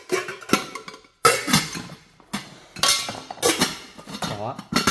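Metal cookware from a Kasai Villa pot set with lids, six pieces, clanks and clinks in repeated bursts as the pots are handled, with talk alongside.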